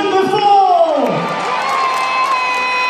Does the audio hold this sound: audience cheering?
yes